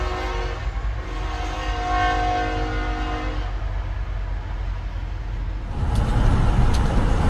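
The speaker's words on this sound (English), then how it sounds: "A car trapped on the railway crossing is destroyed by the oncoming train." A train rushes through a railway crossing, horn blaring in long sustained tones over a heavy rumble of rolling wheels, then a louder burst of rattling and crashing as it strikes a car trapped on the tracks.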